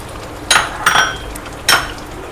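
Mutton pieces and cashews going into a pot of hot oil, heard as three sharp metallic clinks and scrapes of a utensil against the pot over a low steady background, with no talking.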